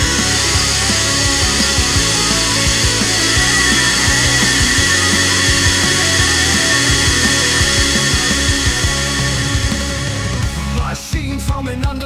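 Three battery leaf blowers, a STIHL, a Milwaukee and an Ego running on a 5-amp-hour battery, whir together as a loud, steady high-pitched roar that holds constant before cutting off near the end.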